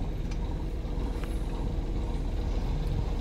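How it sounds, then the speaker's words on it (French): Heavy truck engine idling and rumbling during a slow maneuver on a street, a dense steady low drone with faint hiss, close and continuous throughout. "Il commence à faire ronronner le moteur"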